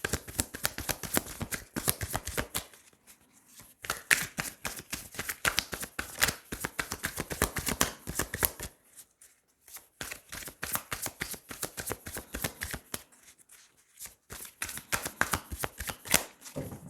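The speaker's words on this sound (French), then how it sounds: "je vais tirer les cartes." Tarot cards being shuffled by hand in repeated bursts of rapid riffling flutter, close and crisp, separated by short pauses, with no talking.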